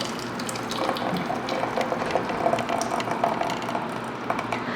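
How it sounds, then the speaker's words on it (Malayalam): Wheat appam batter pours from a vessel into another, a continuous soft wet splashing and trickling with faint clinks, steady and close. "പാത്രത്തിലേക്ക് ഒഴിക്കുകയാണ്"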